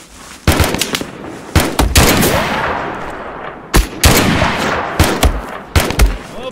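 Loud, close bursts of gunfire from the WWII-themed video game Mud and Blood during a German counterattack, sharp repeated shots in clusters with echoing tails between volleys.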